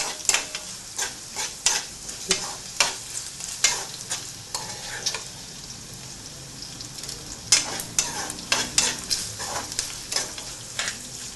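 Elephant foot yam pieces sizzle in hot tempering oil while a utensil scrapes and stirs the pan in repeated rhythmic strokes, close and clear.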